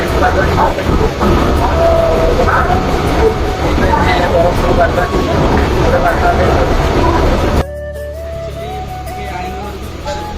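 Steady rumbling train noise with a murmur of voices throughout, then a quieter interior hum with a faint rising tone near the end.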